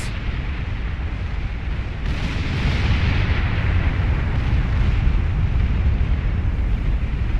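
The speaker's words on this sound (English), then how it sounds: "Here come the anti-nuke missiles." Anti-nuke missiles launch and intercept incoming nukes in a real-time strategy game, a dense, loud roaring rush of rocket exhaust and explosions swelling after a sharp burst, sustained with no speech.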